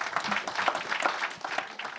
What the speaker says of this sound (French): On vous applaudit tous les deux.